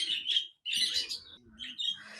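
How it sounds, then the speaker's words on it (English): Native Australian birds at a marsupial park chirp in bright, close bursts, quick tweets broken by short pauses, with a faint low call underneath and no talk. "Yes, April and Justin, those were native birds."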